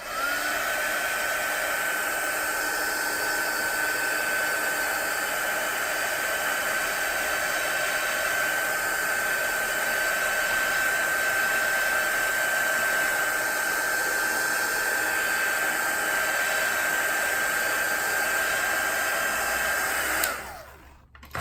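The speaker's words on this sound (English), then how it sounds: "I'm gonna dry it a little bit with my my heat tool" Heat tool blowing steadily over wet watercolour paint on paper, a loud continuous whoosh with a high whine, running alone for about twenty seconds before cutting off abruptly.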